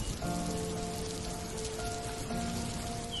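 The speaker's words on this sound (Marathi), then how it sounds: "पाऊस आला मोठा" Heavy rain falls steadily on a surface in a continuous dense hiss, with no gaps, close and moderately loud.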